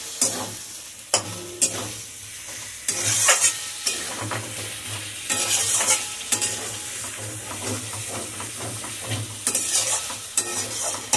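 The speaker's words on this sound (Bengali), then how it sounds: "এখন আমি একটু জল দেবো।" Meat frying in oil toward the end of browning is stirred with repeated scraping strokes over a continuous sizzle, with bursts of louder crackle and hiss as things shift in the pan.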